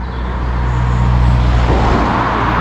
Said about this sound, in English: Cars hammer through.